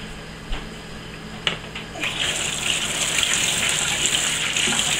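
A kitchen tap starts running for a quick rinse, a few clinks first, then a steady close gush of water pouring and splashing continuously.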